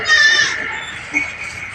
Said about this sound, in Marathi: आपल्या शेळ्या आतमध्ये घातल्यात बरं का जाळीमध्ये आता